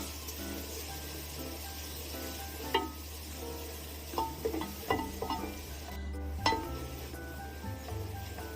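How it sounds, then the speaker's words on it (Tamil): Onions with ground green chilli, ginger and garlic paste sauté in a pan for a white vegetable biryani, a low steady sizzle under scattered clinks and scrapes of a spoon against the vessel. "சேர்த்துட்டு பச்சை வாசனை போகிற வரைக்கும் நல்லா வதக்கி விட்டுக்கலாம்"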